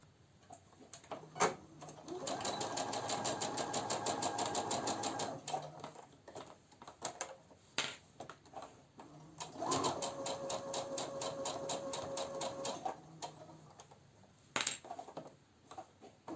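A sewing machine stitches a dart in a bra cup in two sustained runs of rapid, even ticking, close but moderate in level, with brief clicks and handling noises between and after the bursts.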